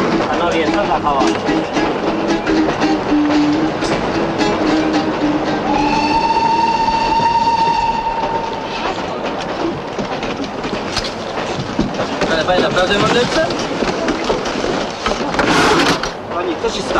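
Train rolling on rails in the 1959 Polish film Pociąg, a steady loud rumble with a sustained horn or whistle tone midway, heard under voices talking throughout.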